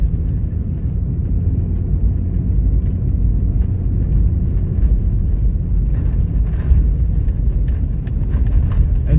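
A car rides over a bumpy, icy winter road in rural Alaska, heard from inside as a constant, heavy low rumble of engine and tyres with occasional soft knocks and jolts.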